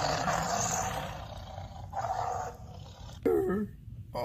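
A person voices a growling roar in imitation of a wild animal, with rough sustained bursts before a brief sharper vocal shout near the end, loud and close.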